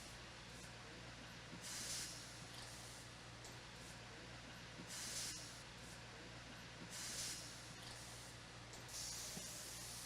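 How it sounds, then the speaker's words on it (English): An air-powered tool dismounts a race car tire in a pit area at Watkins Glen, with repeated bursts of hissing air every couple of seconds over a steady low background hum. "You can hear everything is through their air compressor."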